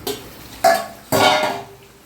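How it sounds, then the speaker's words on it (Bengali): A lid lifted off a pot of Bengali chicken curry simmering on the stove: a few short metallic clanks and scrapes, followed by a brief louder hiss as the pot opens, close by. "5 মিনিট হয়ে গেছে, ঢাকাটা খুলে নেবো।"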